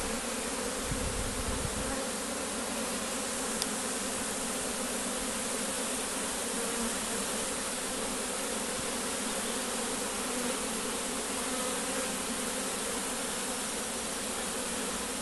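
Large bee swarm buzzing at a beehive, a dense steady hum close by that continues unbroken throughout, with a brief low thump near the start and no talking.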